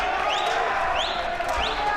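An excited fight-night crowd at an XFC bout cheers loudly in a continuous roar, with whistles and shouts rising above it.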